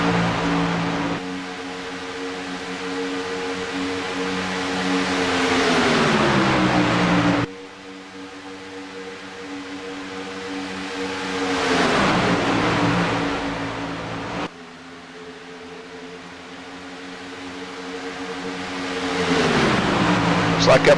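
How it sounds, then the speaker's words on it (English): Racing trucks roar at full throttle around Talladega Motor Speedway, with three loud engine passes that rise and then sweep down in pitch as the packs go by, each cut off abruptly, with no talk heard. "There's nothing any better than trucks full song here at Talladega Motor Speedway."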